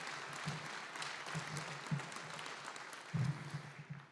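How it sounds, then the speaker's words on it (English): Audience applause at an electric cooperative's annual meeting, a steady spread of clapping from a large indoor crowd lasting throughout, with a louder swell near the end. "Let's give them a round of applause."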